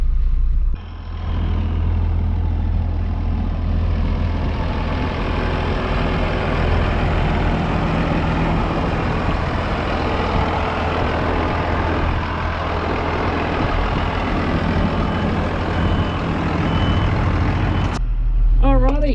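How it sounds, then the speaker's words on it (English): A big green tractor tows a bogged truck out on a West Australian farm, its heavy engine a loud, steady diesel rumble throughout before the sound cuts off near the end. "We've got the bigger green tractor now. We'll hook it up, tow it out"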